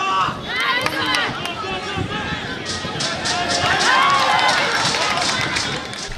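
Crowd noise at a rugby sevens match, a busy roar of shouts and cheers with running footsteps and scattered calls from players, rising toward the middle and staying steady to the end.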